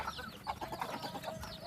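Chickens cluck steadily nearby, several birds, some of them brooding, overlapping in a busy, continuous chatter.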